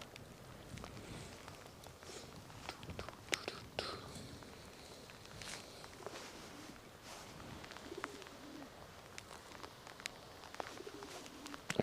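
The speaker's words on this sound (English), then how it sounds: "I hear a pigeon." A pigeon coos faintly in the distance along the Westerschelde waterfront in the Netherlands, soft repeated calls nearly lost in steady outdoor wind and ambient noise, with light rustling and footsteps nearby.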